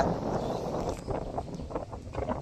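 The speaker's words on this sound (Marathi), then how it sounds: "वारा बघाय सुटलाय ता." Wind blowing across an open riverbank in the Konkan region, a steady broadband rush buffeting the microphone throughout, with no clear talk.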